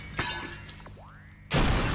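Glass shatters in the video game Teardown: a sharp crash of breaking panes with a tinkling scatter of shards, then a second loud burst of breakage near the end.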